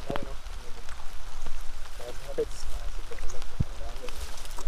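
Steady rain falls outdoors among coconut trees, a soft continuous patter with scattered drops tapping nearby surfaces, while people talk faintly underneath.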